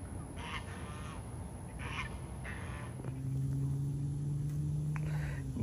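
Chickens and roosters cluck and call near Great Pyrenees dogs, a low steady murmur of fowl with scattered short calls, then a sustained, tonal crow-like call lasting a couple of seconds.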